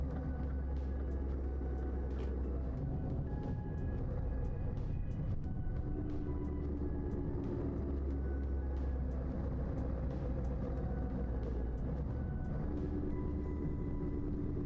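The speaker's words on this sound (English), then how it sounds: "This one sounds like it come from an engine that's got a lot of miles on it" A worn, high-mileage truck engine in Euro Truck Simulator 2 drones steadily at idle or cruise, a constant low rumble with a faint tonal hum that never changes. It is fairly quiet, with no talk over it.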